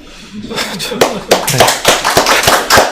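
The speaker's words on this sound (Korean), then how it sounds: "스스로에게 박수 한번 쳐주세요" Participants in a study group session clap for themselves, a few sharp, uneven hand claps building into a short burst, close and fairly loud, with voices mixed in.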